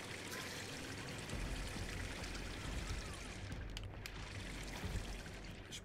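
Continuous rushing, pouring water in the video game Hitman (2016), steady and fairly loud throughout with a few brief dips in the upper hiss, no talk over it.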